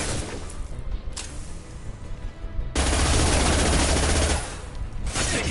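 Heavy automatic gunfire in the video game Mass Effect Legendary Edition, a dense loud barrage that swells into a sustained roaring burst midway, then eases back into continued rapid shots, with no talking over it.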